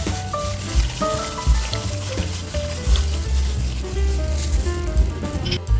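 Carrots frying in hot oil in a wok, a loud, steady sizzle with crackling spatter throughout, occasional thumps and stirring clatter, and background music.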